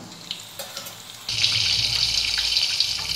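Cheese balls fry in hot oil in a home kitchen, a steady loud hiss and sizzle that rises abruptly after a quieter opening with a few soft clinks.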